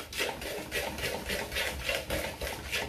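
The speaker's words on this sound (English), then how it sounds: "Give it a good mix in" Cookies and cream bath truffle mixture being stirred in a bowl: a steady, rhythmic scraping and swishing that repeats about three times a second, close up, with no talk.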